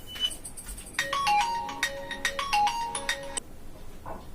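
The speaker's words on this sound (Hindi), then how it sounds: "तो बच्चों फोन आ गया था" A phone ringtone plays a bright repeating electronic melody of clipped tones for a few seconds, then cuts off, heard clearly over a quiet room.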